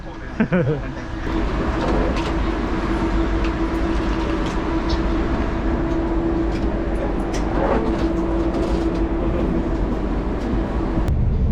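Steady rumble of the KLIA Express airport train in Malaysia riding along the rails, with a constant hum and occasional faint clacks and creaks, continuous and close throughout.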